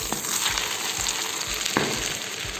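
A German potato pancake fries in a hot pan right after being turned, giving a steady, close crackling sizzle with a few sharper pops, and no one talking.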